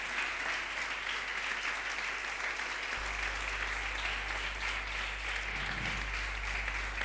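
Church congregation clapping loudly and continuously, a dense, even wash of applause lasting several seconds, with a low hum underneath.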